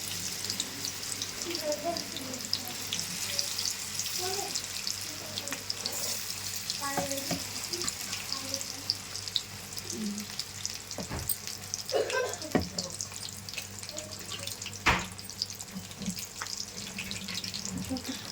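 Mushroom pakodi fry steadily in hot oil, a continuous crackling sizzle with scattered pops and occasional clinks of a utensil, close and without talk.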